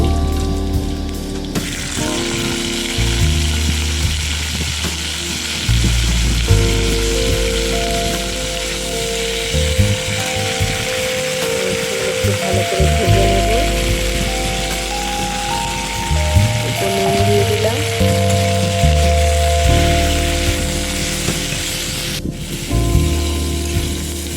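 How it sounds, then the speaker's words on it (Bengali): Bitter gourd fries in hot oil with a loud, continuous hissing sizzle that lasts throughout, alongside steady low tonal hums in the background. "তেলটা গরম হয়ে গেছে আমি এবার উচ্ছগুলো দিয়ে দেবো"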